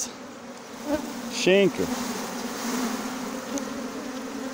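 Stingless bees buzz close around hive boxes during a colony split with queen cells, a steady insect drone with a few louder passes of individual bees flying near.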